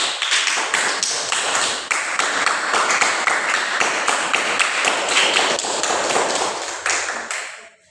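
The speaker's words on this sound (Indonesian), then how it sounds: "tepuk tangan" A group of people clapping their hands in a continuous, fairly fast rhythm, loud and close, with no talking, ending abruptly.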